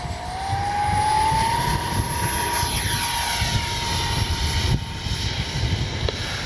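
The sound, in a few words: RC X-Fly F-22 Raptor twin 40mm jet flying in wind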